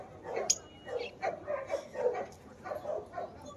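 A puppy at a dog show in Pandharpur gives a series of short, moderately close yips and barks in an uneven rhythm, with a faint high squeak among them.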